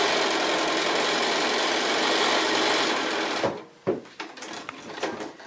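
Sewing machine chain piecing house quilt blocks with sashing, a loud steady running whir for about three seconds, then stopping into short bursts of stitching and handling clatter.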